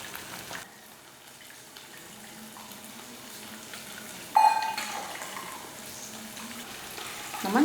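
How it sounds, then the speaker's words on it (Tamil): Tamarind water poured into a pot of boiling pirandai (adamant creeper) kuzhambu, a soft continuous bubbling and sizzle with a brief louder splash midway and another near the end, no talk. "இப்போ நம்ம கரைச்சி வச்சுருக்க புளியை இதில் ஊற்றிடலாம்"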